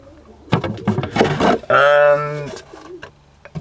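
Three-week-old pigeon and dove chicks, including a quarter feral pigeon hybrid, cooing and squeaking up close in a short run of soft calls, one longer rising coo in the middle, with faint background noise.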